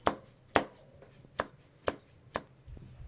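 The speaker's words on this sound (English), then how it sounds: "This sounds oddly similar to me punching myself in the arm." Punching one's own arm as a foley effect: six sharp, dull thumps spaced about half a second apart, close and fairly loud, with no voices.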